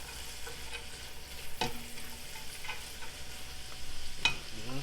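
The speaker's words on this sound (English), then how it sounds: "So salt, a little bit of pepper, and we'll saute it down." Thanksgiving leftovers sauté in a pot on an electric stove, a steady soft sizzle with occasional stirring scrapes and clinks, no talk over it.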